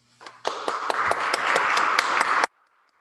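A small graduation crowd in a big space, celebrating preservation carpentry and violin making graduates, breaks into steady applause that swells quickly, holds for about two seconds with distinct individual claps standing out, then stops abruptly into near silence.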